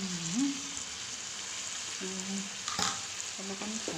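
Food fries and sizzles in a pan while a local chicken curry cooks, a steady, close crackle with a few faint ringing clinks over it.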